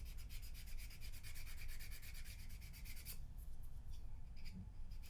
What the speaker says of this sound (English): just make everything smooth with your nail file